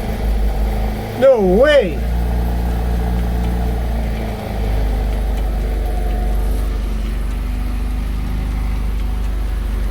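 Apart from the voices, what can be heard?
MG Midget car engine running without choke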